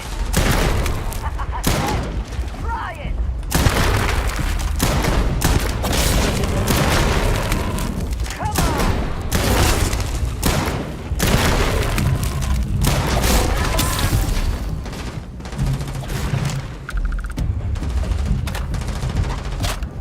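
Gunfire in Starfield, loud rapid bursts of shots and booming impacts repeating densely throughout, with occasional voice underneath.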